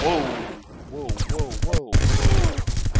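Pistol fire in 007 Everything or Nothing, a rapid string of sharp close shots with ringing tails, loud and rhythmic after a brief quieter lead-in.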